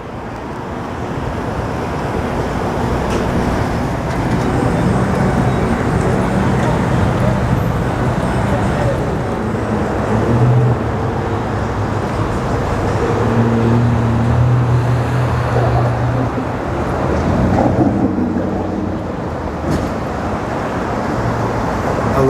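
Road traffic from cars passing on city streets near a freeway rumbles steadily and continuously in the background, heard outdoors under someone talking throughout.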